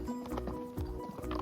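A horse on a trail ride walks uphill at Lincoln Mountain Open Space, its hooves clip-clopping close by in a quick, uneven rhythm of several distinct steps.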